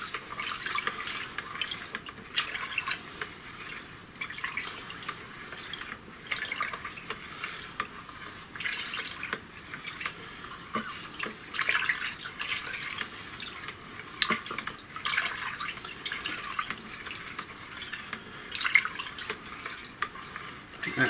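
Wine kit must for a Merlot is stirred by hand with a sanitised spoon or paddle, giving a steady sloshing, swishing churn of liquid in a fermenting bucket, close and continuous for about twenty seconds with no speech.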